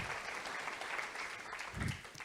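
Congregation applauding during a church sermon, a steady, soft wash of many hands clapping together at a distance, with a low thump near the end.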